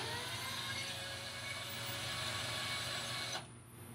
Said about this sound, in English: start drilling some holes because we've got to have a way to attach these